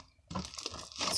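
Homemade slime made with shaving foam and no coloring, still slightly sticky, gives off a dense crunchy crackling and crinkling as it is squeezed, starting after a brief quiet moment and growing louder toward the end.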